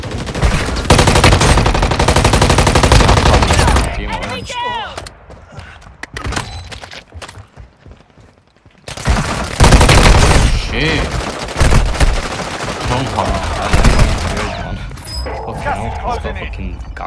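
Automatic gunfire in Call of Duty Warzone Mobile on a phone, loud rapid bursts with dense layered shots, a short lull in the middle, then more firing, with game sounds and voices talking over it.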